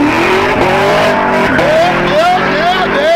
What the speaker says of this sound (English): They pull off and burn the tires.